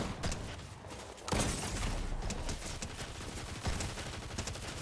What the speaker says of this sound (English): This gun shoots so slow